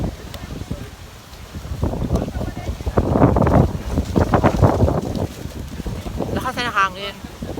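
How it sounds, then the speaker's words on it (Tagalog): Strong wind rumbles and buffets the microphone in uneven gusts in Canada while people talk nearby, with a brief high chirping sound near the end. "Lakas na hangin."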